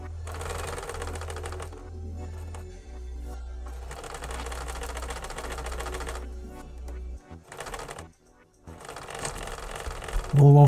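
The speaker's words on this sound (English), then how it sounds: "so that when I get it on the sewing machine" A domestic sewing machine stitches folded fabric for a custom rain porch cover on a pop-up chair hide, running in steady rapid bursts of mechanical chatter with brief pauses and a short stop near the end.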